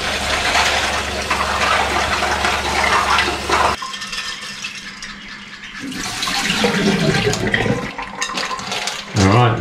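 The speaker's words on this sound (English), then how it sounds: "time to do final rinse on the pippies. Say goodbye to your seawater. Rinse them in fresh." Pipis (clams) getting a final rinse in fresh water, a loud continuous wash of running, splashing water with a brief break partway through.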